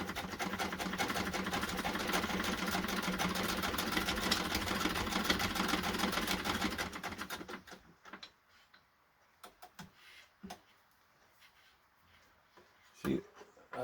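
A 1966 hand-crank sewing machine stitches steadily with a rapid mechanical whirr and clatter for about seven seconds, then stops. Scattered clicks and handling knocks follow, with a voice talking quietly nearby.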